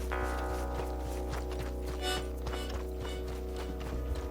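A horse's hooves clip-clop in a steady walking rhythm in Red Dead Redemption 2, soft regular knocks repeating under sustained music.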